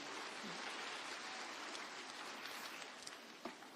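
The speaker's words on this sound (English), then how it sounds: "Can we give another round of applause?" Audience applause at a live Kenya Girl Guides Association ceremony installing Rachel Ruto as patron, a dense steady patter of many hands clapping that carries on without a break and fades slightly toward the end.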